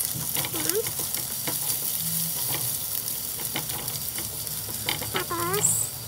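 Onion and ginger sautéing in a pan for dinuguan, a steady loud sizzle with repeated stirring scrapes, while a person speaks briefly in the background.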